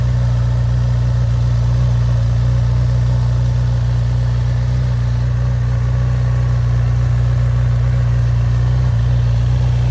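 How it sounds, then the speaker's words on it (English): A Honda CB1000R motorcycle with its stock exhaust idles steadily at close range, a constant low, throbbing exhaust rumble with no voices. "let's hear the sound of the current exhaust."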